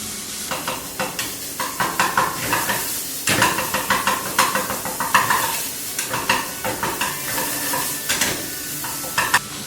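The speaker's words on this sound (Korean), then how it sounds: "고기를 잘게 풀어가면서 볶아주세요" Ground meat stir-frying in a pan for yuni jjajang, with a loud continuous sizzle and rapid, rhythmic scraping of a utensil breaking up the meat.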